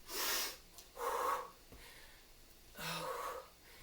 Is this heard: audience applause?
no